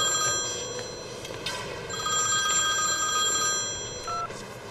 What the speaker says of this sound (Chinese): 我先接一电话。